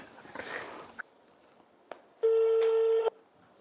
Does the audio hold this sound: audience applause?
no